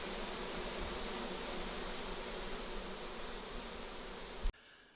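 A honeybee swarm buzzes and fans at the entrance of a nuc box, making a dense, steady hum throughout that breaks off abruptly near the end.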